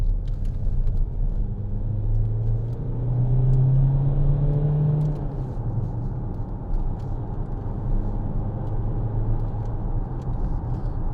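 A 2014 Vauxhall Insignia 2.0 CDTi SRi diesel accelerates from inside the cabin, a steady low engine rumble and road roar rising slightly in pitch as it builds speed.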